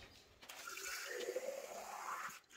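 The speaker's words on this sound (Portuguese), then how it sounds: "vamos colocar a água" Water is poured through a small hose into a bottle, a soft, steady trickling and rushing of liquid lasting about two seconds, fairly faint and heard without any voices.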